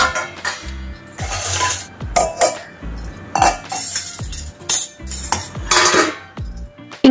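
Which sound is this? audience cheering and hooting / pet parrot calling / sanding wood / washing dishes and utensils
washing dishes and utensils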